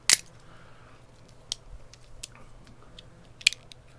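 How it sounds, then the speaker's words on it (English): A switchblade knife snaps shut with a sharp spring crunch at the start, followed by a few fainter clicks and ticks from the blade mechanism against a quiet, close background. "And as you close at the very end there, you hear that crunch."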